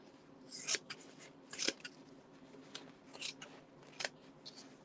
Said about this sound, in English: It's kind of a big piece of paper towel, so let me just cut this